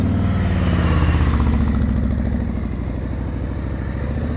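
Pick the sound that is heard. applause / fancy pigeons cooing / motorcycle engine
motorcycle engine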